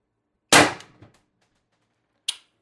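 A TR50 HPA launcher, run without a restrictor, fires a 12.7mm ball bearing: one sharp, loud crack with a short rattling tail, then a softer, brief impact click about two seconds later.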